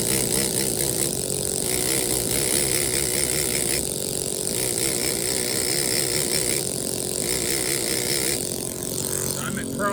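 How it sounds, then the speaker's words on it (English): A straight chisel cuts into a life-size stone bas-relief angel, giving a loud, unbroken mechanical buzzing and rattling that holds steady throughout, close and without talk. "Now we're going to use a straight chisel to tear that down."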